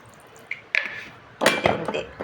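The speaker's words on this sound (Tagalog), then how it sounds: "Tapos guys, add mo yung tubig." Water poured into a cooking pan holding salt and a little oil while making ravioli, a few short splashes and clinks of metal, then a louder burst of sloshing and dripping, close and brief.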